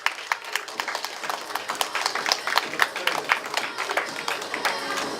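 An audience at a school admissions briefing gives a sustained round of dense applause, many hands clapping at once, fairly close and steady throughout, with a little crowd noise underneath.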